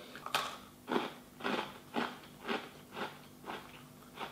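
Someone bites and chews overbaked, crunchy cookies made from a powdered mix, producing about eight close, crisp crunches spaced evenly roughly half a second apart, with no talking.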